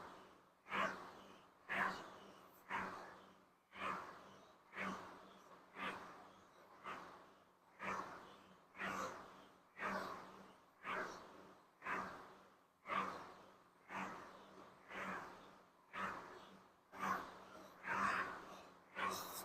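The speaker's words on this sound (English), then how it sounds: "I gotta take those gasps of air in between." Heavy, rhythmic gasping breaths during high-intensity Airdyne air bike intervals, about one sharp inhale-exhale every 1.5 seconds, close and loud, with no talking.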